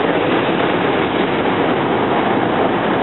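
An R3 West Trenton commuter train pulls into 30th Street Station at night, a dense, steady rushing rumble of wheels and cars rolling past close by, loud and unbroken throughout.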